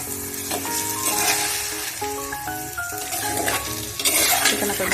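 Chicken frying and being stirred in a clay pot for a chicken curry, with steady sizzling and repeated scraping and clinking of a utensil against the pot, close and loud throughout.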